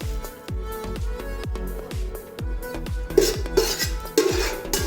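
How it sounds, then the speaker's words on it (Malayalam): Cashew nuts fry in a few teaspoons of ghee in a pot, with a steady sizzle under repeated metal clinks and scrapes of a spoon against the pot, close and fairly loud. "ഒരു രണ്ടോ മൂന്നോ ടീസ്പൂണ് നെയ്യ് ഒഴിച്ചു കൊടുക്കുന്നുണ്ട് നമ്മളെ അണ്ടിപ്പരിപ്പും മുന്തിരിയൊക്കെ ഒന്ന് വറുത്തെടുക്കാൻ വേണ്ടിയിട്ട്"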